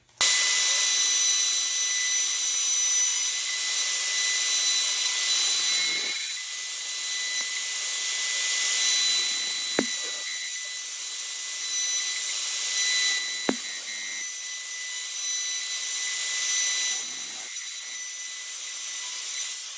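A router cutting dovetails in wood on a dovetail jig, a loud continuous high whine close by, with small dips and brief bumps as the bit moves through the joints.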